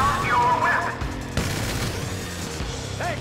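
Gunfire in Grand Theft Auto V during a heist escape, a dense burst of shots and crashing impacts mixed with shouting voices and in-game clamor, loud and close throughout.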